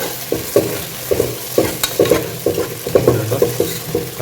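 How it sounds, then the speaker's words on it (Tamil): Curry leaves fry in a pan for a coconut spleen curry, with close, loud sizzling and a regular run of spoon strokes scraping and knocking against the pan. "கருவேப்பிலையும் போட்டிருக்கு."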